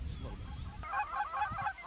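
Geese honking during an early-morning goose hunt on a windy day: a run of several loud, nasal honks close by, with low wind rumble underneath.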